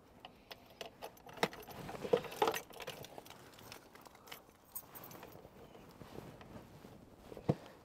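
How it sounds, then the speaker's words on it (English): Keys jangle and click as a key is pushed into a cover on an Auto-Trail Expedition 66 motorhome, with faint metallic rattles and a few sharper taps, heard close but quietly. "So popping your key in here"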